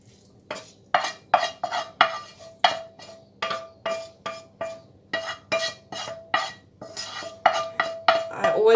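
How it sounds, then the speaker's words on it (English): Onions, green pepper and garlic go into a pan for a corned meat chicken savoury tart, heard as a close run of sharp, rhythmic clinks and scrapes of a utensil against the pan, about a dozen evenly spaced strikes with light sizzling beneath. "now I will be adding the onions and the green pepper and the garlic"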